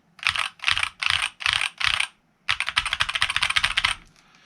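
Typing on a K617 mechanical keyboard fitted with new keycaps and acoustic mods: five separate bursts of clacky keystrokes, then a longer rapid run, close and crisp with no voices.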